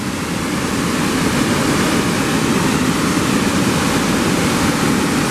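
Blackwater Falls in West Virginia roars as a loud, constant broadband rush of falling water, steady and unbroken throughout with no voices.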